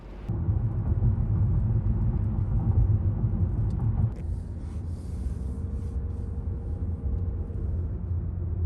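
A car drives through Beverly Hills, its low steady road rumble and interior drone close and continuous. The noise drops slightly partway through and holds at a softer level.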